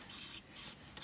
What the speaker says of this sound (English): I always use my handy dandy WD-40 and spray a little bit on there